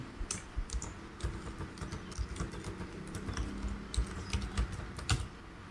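Rapid clicking of keys on a computer keyboard while a document is typed, an uneven patter of close taps with occasional louder strokes, heard alone.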